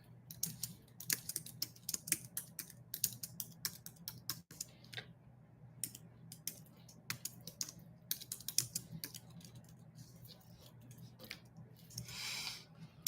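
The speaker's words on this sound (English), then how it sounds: "I can't see what I'm typing." Rapid tapping on a phone screen keyboard, uneven bursts of small clicks close to the mic over a low steady hum.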